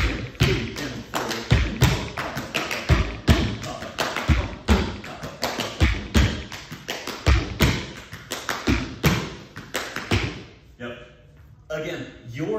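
Rhythmic hand clapping from a dance cast working through choreography for a We Will Rock You pop show routine, loud sharp claps repeating in a steady counted pattern over talk and background music, thinning out near the end.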